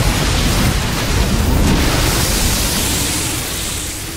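A dense roaring burst of many Banelings exploding at once on a Marauder in StarCraft II, loud and continuous, fading slightly toward the end with no talk over it.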